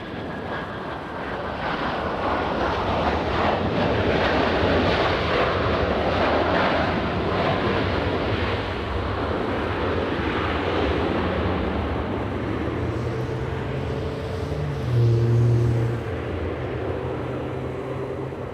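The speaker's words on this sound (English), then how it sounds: "that is Qatar Airways" A Qatar Airways airliner passes at LAX airport, a loud, sustained jet engine roar with wind-blown rumble that swells briefly before easing off, heard without talk.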